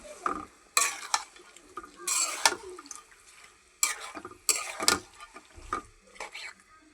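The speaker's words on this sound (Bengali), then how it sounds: "এখন আমি এই যে মুরগিগুলি দিয়ে দিছি। মুরগিগুলি ভালো করে কষাই নিব।" Chicken pieces are stirred and sautéed in spice masala in a pan, giving irregular bursts of scraping and sizzling between quieter gaps, close by.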